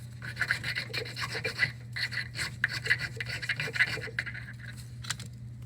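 A ring is sanded with sandpaper on wood, a series of short raspy rubbing strokes in an uneven rhythm, close and moderately loud over a low steady hum, with no one speaking.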